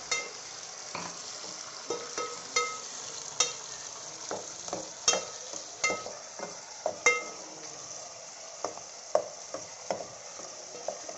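Chopped onions, green chillies and tomatoes frying in a pan for Rajasthani moth dal, a thin steady sizzle under frequent sharp clinks and scrapes of a spoon stirring against the metal.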